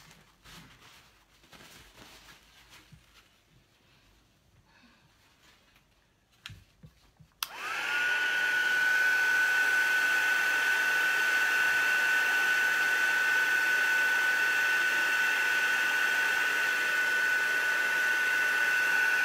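A heat tool switches on abruptly after quiet handling noises and blows a loud, steady whirring hiss with a high whine as it melts an embossing layer on a mixed media piece, running continuously without talk.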